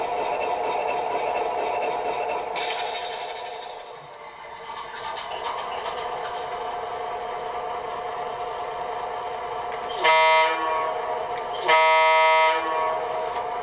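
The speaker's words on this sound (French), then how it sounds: "Ce n'est pas le même klaxon que sur la version du CP. Le son, on le reconnaît, là, le 3 cornes" A steady low train rumble, then two loud blasts of a three-chime diesel locomotive horn, each lasting about a second, heard fairly close.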